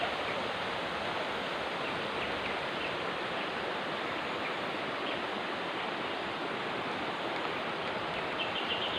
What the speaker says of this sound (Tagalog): Marinig nyo naman yung tinig ng agos ng tubig ng sapa.